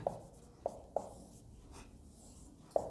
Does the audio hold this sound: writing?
yes